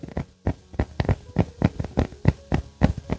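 An alcohol stove flame burning low and nearly out, pulsing in a steady rhythm of soft, close puffs roughly three per second, fairly quiet and alone.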